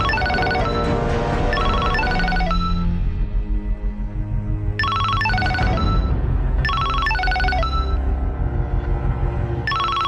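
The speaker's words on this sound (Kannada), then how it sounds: "ಸರ್ ಶೈನಿ ಮೇಡಮ್ ಫೋನ್ ಮಾಡಿದ್ದಾರೆ." A phone rings in an office in bursts of bright electronic ringtone tones, loud and close, repeating several times with short gaps between the rings and no speech over it.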